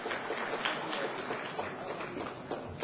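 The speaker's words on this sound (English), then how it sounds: "Big round of applause for all the awardees." An audience applauds awardees at an inaugural session, producing a dense, continuous patter of many hands clapping for a few seconds, fairly even and moderately distant, with no talking over it.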